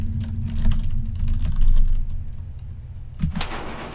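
Quick keystrokes tapped on a keyboard to enter an eight-digit safe passcode, soft and close over a low ambient hum, ending in a brighter clack or beep.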